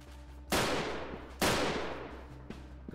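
Gunfire in the video game Freeman Guerrilla Warfare: two loud, booming shots about a second apart, each with a long echoing decay, then a fainter third report near the end, over a low steady hum.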